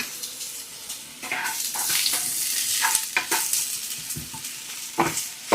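Two chopped onions frying in a hot pan, a steady sizzle with repeated stirring scrapes and clinks of a utensil against the pan, close and moderately loud, no talking.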